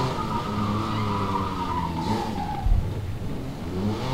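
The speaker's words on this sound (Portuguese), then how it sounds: "Esse carro demora demais pra frear." In Need for Speed Most Wanted 2012, a racing car brakes hard and its tires skid and squeal in a long sliding screech over the engine's drone. A short low thump comes partway through, and no one speaks.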